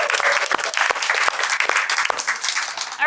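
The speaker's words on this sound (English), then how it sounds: "So let's start with a round of applause." An audience at a book launch event applauding, a dense, steady patter of many hands clapping at close range throughout, with a voice starting to speak right at the end.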